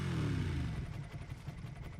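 A motorcycle engine in the video game Resident Evil Requiem rumbles low and close, revving briefly and then settling into a throbbing, uneven idle, with no talking over it.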